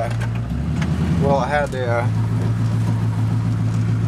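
An old car's engine idles at a raised speed with the choke on, a steady low drone running throughout, while someone talks over it.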